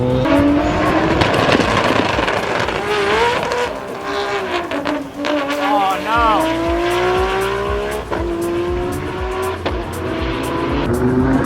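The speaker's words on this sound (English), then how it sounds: "Let's see these cars run." Race cars launching during roll race qualifying, loud engines revving and rising through gears with sweeping pitch, tire squeal and a car passing close by, a voice briefly heard over the noise.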